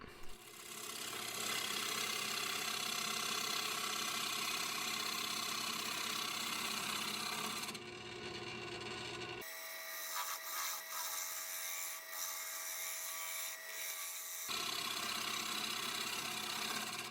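Wooden side table top turning on a lathe while a tool takes a scraping pass to flatten it, a loud continuous rough scraping and rubbing with a steady motor drone, briefly changing tone midway.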